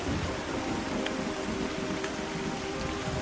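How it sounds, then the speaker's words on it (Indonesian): Steady rain pours down in a horror story scene, a dense, continuous hiss of drops striking surfaces, fairly close and loud throughout, with no voices. "Hujan pun perlahan turun seketika memberhentikan pembicaraan mereka."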